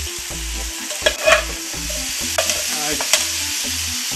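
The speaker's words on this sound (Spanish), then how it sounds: "Ahora ya tenemos la carne fritita, la cebolla pochadita, el pimiento pochadito, así que vamos a echar el tomate." Tomato tipped into a paella pan over fried meat, softened onion and pepper, giving a loud, hissing sizzle with several sharp stirring scrapes and taps, music playing underneath and one brief spoken word.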